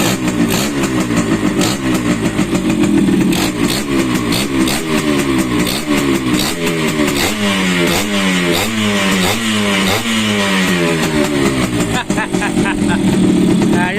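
Restored Suzuki X4 motorcycle engine running close and loud, a rough steady idle broken by repeated throttle blips that rise and fall in pitch, with people talking over it.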